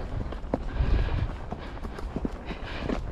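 A horse canters in a rhythmic run of soft, muffled hoofbeats, recorded close and fairly quietly, with faint background noise and no clear talk.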